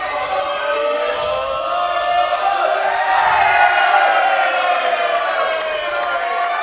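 An indoor crowd at a boxing event in Pitsea cheers and chants in a continuous, loud roar, with overlapping voices rising and falling together throughout.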